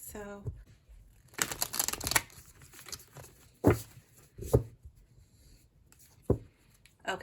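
Tarot cards being shuffled by hand, with irregular bursts of riffling and soft slaps of the deck separated by pauses, close and moderately quiet.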